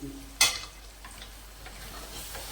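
An egg being flipped in a frying pan for an egg scramble, one sharp scraping clatter of the turner followed by a low, steady sizzle, close and without talking.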